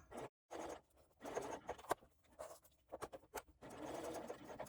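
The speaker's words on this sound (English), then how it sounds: "Using a longer stitch length because I'm top stitching" A sewing machine topstitches a zipper on a small coin purse at a longer stitch length, its quiet stitching coming in short irregular bursts separated by brief pauses.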